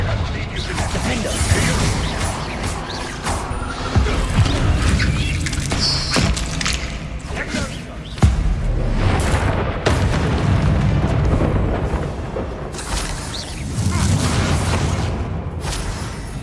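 Repeated Confringo spell blasts in Hogwarts Legacy, heavy booms and crackling bursts that keep erupting through a chaotic fight, with characters shouting and talking amid the explosions.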